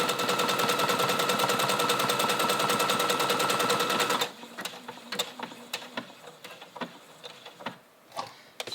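A sewing machine stitching a buttonhole on a hooded long-sleeved jacket, running as a steady, loud, rapid mechanical whir for about four seconds, then stopping and leaving scattered clicks and small handling taps.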